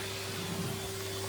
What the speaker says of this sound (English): Okay, I'm just getting down here and vacuuming.